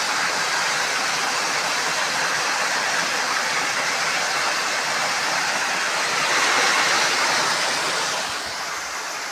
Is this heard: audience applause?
no